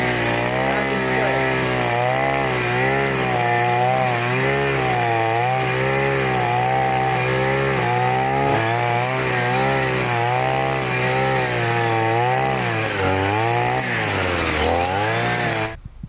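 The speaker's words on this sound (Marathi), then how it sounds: "आता हे पूर्ण शेतातलं गवत या मशीनने कट करायचं," A motorized grass-cutting machine runs steadily in an overgrown farm field, a loud, close, droning engine whine that rises and dips as it cuts through the grass, then stops near the end.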